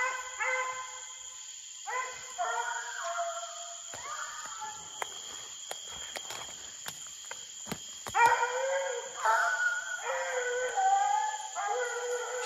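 A coonhound puppy bays on a raccoon hunt, giving long drawn-out howling bawls in repeated bursts, moderately near, with sharp crackling knocks scattered between the calls and a steady high whine running underneath.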